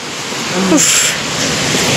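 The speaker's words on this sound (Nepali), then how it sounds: "ड्याम सुन्दरी जल ड्याम पानी खल खल खल खल बगिरहेको छ" Water flowing steadily at Sundarijal dam, a loud continuous rushing wash that fills the whole clip, close and unbroken, with a brief faint voice partway through.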